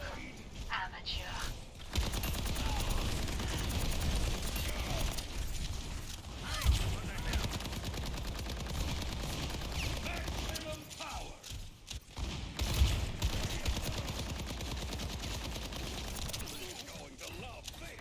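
Rapid automatic gunfire from Soldier's rifle in the Overwatch video game rattles in sustained bursts with brief pauses, loud and close, mixed with mechanical clatter and game effects.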